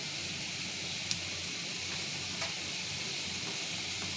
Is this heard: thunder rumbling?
no